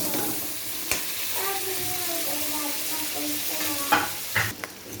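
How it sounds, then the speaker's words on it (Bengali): Shrimp fry with salt and turmeric in oil, crackling and sizzling steadily up close, with a few sharp spatter pops and stirring scrapes toward the end. "সেই চিংড়ি মাছগুলো নুন হলুদ দিয়ে একটু ভেজে নিলাম"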